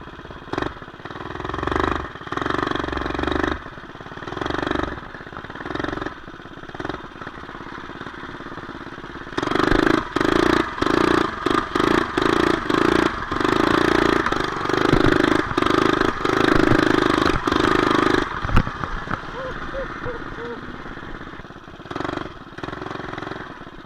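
A modified 212 engine on an off-road machine revs hard under throttle, choppy rising and falling bursts of engine noise, loudest through the middle stretch, close by with no talk.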